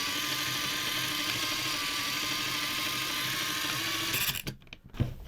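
A TOMY Daredevil toy's spring-and-gear jump mechanism runs with a steady whirring buzz for about four seconds, then stops abruptly with a few mechanical clicks and a knock, close up.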